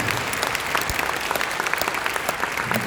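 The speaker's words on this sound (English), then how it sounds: "if you could kindly give a round of applause for..." An audience at a fintech summit panel session claps in steady, dense applause, a continuous close patter of many hands that holds at an even level throughout.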